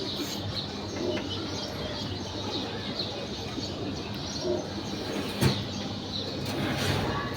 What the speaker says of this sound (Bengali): আজ আমার লফটে এক জোড়া নতুন কবুতর নিয়ে আসছি